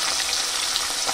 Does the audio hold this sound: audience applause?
no